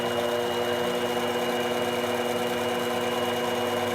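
A lathe turning a mast piece runs at a steady hum with a constant whine, even and unchanging from start to finish, with no speech.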